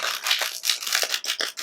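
Quick papery riffling bursts, several in a row with short gaps, close by, tarot cards being shuffled.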